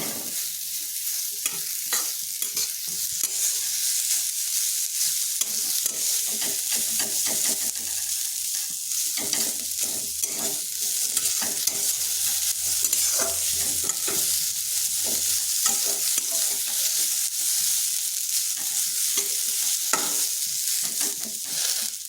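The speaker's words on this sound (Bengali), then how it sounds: "হালকা একটু নেড়ে নিচ্ছি যাতে কাঁচা গন্ধটা চলে যায়" Grated coconut is stirred and dry-roasted in a pan as a filling for pitha. Continuous scraping spatula strokes mix with a light, dry sizzle, and no voices are heard.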